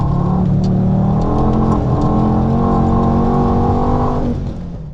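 A turbocharged Volvo 2.3-liter five-cylinder engine of about 240 horsepower accelerates hard through a tunnel, its rising growl climbing in pitch, loud and close with echoing reverberation, fading at the end.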